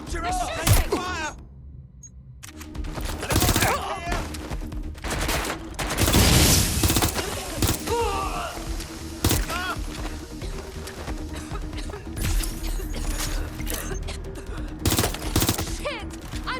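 Repeated gunfire bursts and single shots from the Watch Dogs: Legion shooter on PS5, set in Britain, crackling loud and close amid a busy battle din with scattered voices over it.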